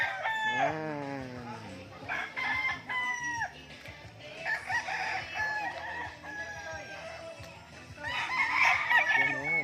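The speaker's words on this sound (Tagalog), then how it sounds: "Puro sila nakataktalaok." Many chickens and roosters at a poultry farm in Tanay, Rizal, crowing repeatedly and overlapping with clucks, a dense, loud chorus from several birds at varying distances.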